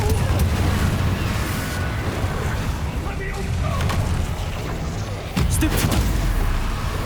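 Hogwarts Legacy combat: a fire-spell blast bursts amid dense, continuous rumbling battle noise, with a sharp broadband flare near the end, loud and close under a busy game mix.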